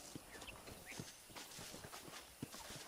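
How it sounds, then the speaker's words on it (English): Horse hooves clip-clop in the Western video game Red Dead Redemption, faint and uneven, a few scattered hoofbeats over a soft ambient bed. "Let's see if we can't wrangle some horses."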